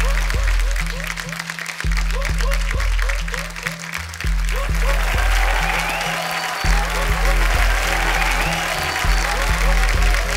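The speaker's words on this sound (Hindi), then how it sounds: "जोरदार तालियां सबके लिए." Studio audience on The Kapil Sharma Show claps loudly to welcome arriving guests. The applause is dense and sustained, and upbeat background music with a thumping bass line plays under it throughout.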